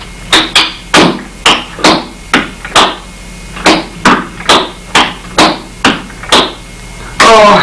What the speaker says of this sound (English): The scuff comes before the toe pop.